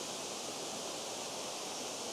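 Steady, even roar of Tianna Falls pouring down, a continuous broadband rush of falling water heard alone, with no voices or other sounds over it.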